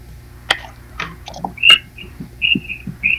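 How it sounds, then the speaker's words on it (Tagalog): Several short, high notes whistled by a person outside sound from a distance between a few scattered clicks and knocks; nobody speaks. "yung doon sa labas mo, merong nagpipito."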